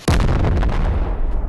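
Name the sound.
explosion from the video game Animal Company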